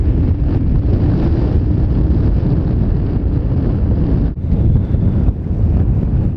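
Strong wind buffets the microphone aboard a boat at anchor in a loud, continuous roar, with a brief dip near the end before the gusting resumes.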